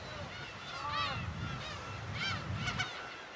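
Black-tailed gulls calling on Dokdo island, several nasal, wavering cries spread across a few seconds over a steady rush of wind and surf, moderately distant.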